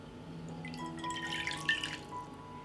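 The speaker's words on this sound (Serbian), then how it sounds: "U drugu činiju sipat ću 250 ml mlake vode" About 250 ml of lukewarm water poured into a bowl: a soft, quiet trickle and splash lasting over a second, rising and fading against a faint background, with no talking.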